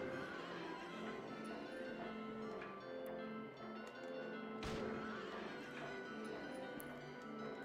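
Horses breathe in the Silent Hill 3 video game, a dense, eerie texture of raspy breaths and tonal drones with a sharp thump near the middle, played at a low level without talk.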